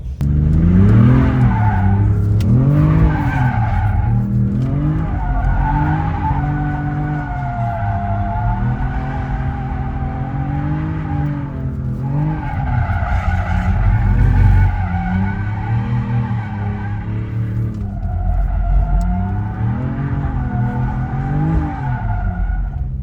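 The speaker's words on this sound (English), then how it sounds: "I am now aboard the Charger 6-pack with professional drift driver here, and we're just gonna go for a little ride." Dodge Charger 6-pack driven by a professional drifter around a new course, tires squealing in long sustained skids over a loud, continuous engine roar with repeated revving swells, heard close from inside the car.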